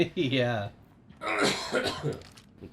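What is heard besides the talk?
coughing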